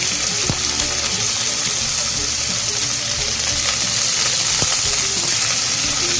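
Sliced onion sizzling steadily in hot oil with curry leaves, a dense continuous frying hiss close by with a few faint stirring clicks.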